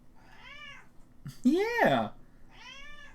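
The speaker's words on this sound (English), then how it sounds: "That's my cat. I love the purry meow." A pet cat gives two trilling, purry meows and one louder, rising meow between them, close and clear, while a person briefly speaks nearby.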